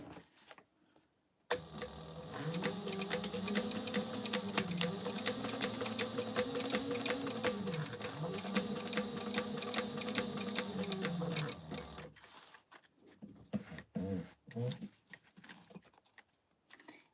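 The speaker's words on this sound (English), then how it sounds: "So we're gonna top stitch this all the way around, just 1/8 of an inch." A sewing machine top stitches fabric 1/8 inch from the edge around a pouch, running steadily for about ten seconds with rapid rhythmic needle clatter, then stopping, followed by quieter handling sounds.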